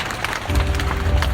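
Audience applause at a Busan International Film Festival open talk for the film Space Sweepers, starting as a softer patter and swelling into steady, dense clapping after the first half second.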